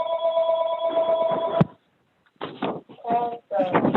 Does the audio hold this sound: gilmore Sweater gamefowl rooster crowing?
no